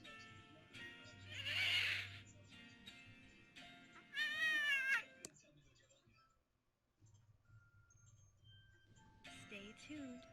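A cat-themed TV show plays on a television in the point-and-click game Thimbleweed Park, with two loud, wailing meow-like cries separated by a quieter stretch, then a brief silence before the broadcast murmur resumes.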